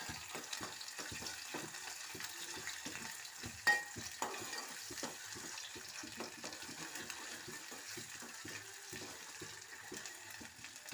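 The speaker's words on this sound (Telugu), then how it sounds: "ఆయిల్ వేడెక్కింది ఇప్పుడు ఆనియన్ అల్లం వెల్లుల్లి కరివేపాకు వేస్తున్నాము" Chopped onion, ginger, garlic and curry leaves frying in hot oil for an eggplant curry, a steady crackling sizzle with irregular stirring scrapes and one brief sharper clatter partway through.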